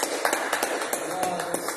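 Congregation in a church breaking into rhythmic hand clapping, irregular bursts heard under a voice speaking.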